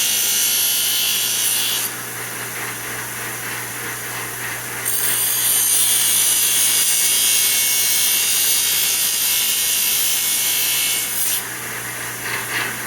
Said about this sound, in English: Grind these clips off of here.